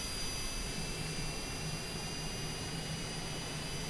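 A jet airliner engine hums steadily during start-up in a flight simulator at Grand Junction airport, a constant whine with a low rumble, fairly loud and with no speech.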